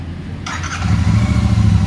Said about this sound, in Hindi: बाइक को स्टार्ट करेंगे,